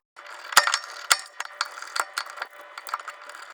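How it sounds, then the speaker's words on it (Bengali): Small screws are backed out of a Sony W310 compact camera with a screwdriver, giving a run of light metallic clicks and ratcheting ticks, close and fairly clear, with no talking. "স্ক্রু ড্রাইভারের সাহায্যে এই স্ক্রুগুলো খুলে ফেলি"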